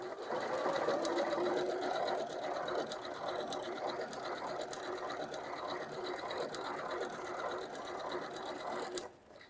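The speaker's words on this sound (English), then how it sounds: "let's begin stitching." Janome sewing machine running a blanket appliqué stitch with an open-toe presser foot, a steady rapid mechanical whir and needle clatter close by, continuous and moderately quiet, stopping just before the end.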